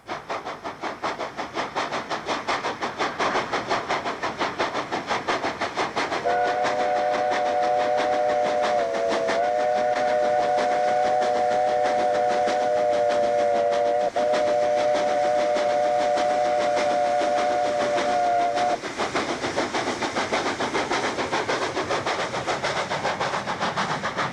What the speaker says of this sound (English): His regular loco is 3516, seen here on a cold winter's morning in 1990, pulling away from a signal check at Hoot Kraal.